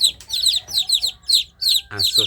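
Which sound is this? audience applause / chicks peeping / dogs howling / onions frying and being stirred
chicks peeping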